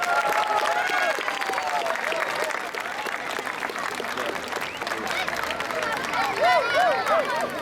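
An audience claps in sustained applause at a stage event, dense and fairly close, with crowd chatter and a few whistles and cheers mixed in.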